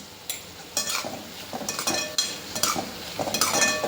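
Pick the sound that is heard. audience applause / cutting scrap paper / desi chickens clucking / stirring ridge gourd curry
stirring ridge gourd curry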